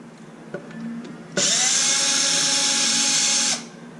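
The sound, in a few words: power driver removing screws from an XMAXX RC car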